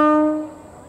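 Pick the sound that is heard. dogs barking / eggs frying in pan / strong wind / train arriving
train arriving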